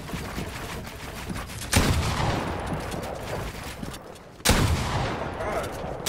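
Two loud pump shotgun blasts in a competitive 1v1 build-free video game match, a few seconds apart, each a sharp boom over steady background game noise.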